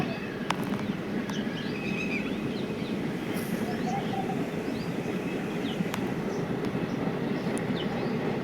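A steady rolling rumble of a train ride carries on without a break, with no talking and a few faint chirps now and then above the rail noise.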